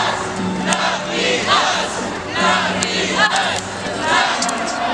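An enormous crowd cheers at a Bernie Sanders rally in Los Angeles, a loud, roaring wash of shouts that swells in waves, heard under and between a speaker's amplified voice.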